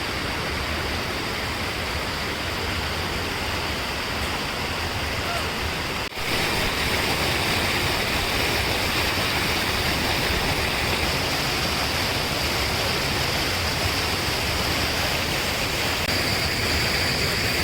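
Rainwater overflowing from Chitrerari Lake in Chennai rushes steadily toward Perumbakkam Lake, a loud, continuous broadband roar of flowing water with no break.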